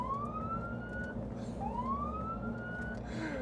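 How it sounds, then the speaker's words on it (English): A siren on an electric all-terrain vehicle's loudhailer system lets out two loud, rising electronic wails in quick succession over a steady low rumble. "there's a second siren down here too"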